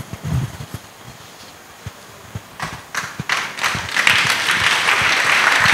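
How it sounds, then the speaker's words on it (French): Audience applause that starts as a few scattered claps and swells into steady, loud group clapping that continues to the end. "Oui, acclamez très fort."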